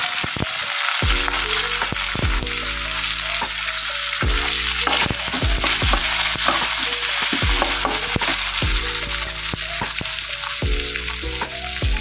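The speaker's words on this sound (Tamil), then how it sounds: "எண்ணெய் நல்லா காஞ்சிருச்சு. தக்காளி வெங்காயம் போட்டுக்கலாம். அது கூட தேங்காயும் போட்டுக்கலாம்." Tomato, onion and coconut frying in hot oil, a steady loud sizzle with repeated scraping stir strokes of a utensil in the pan throughout, no voices.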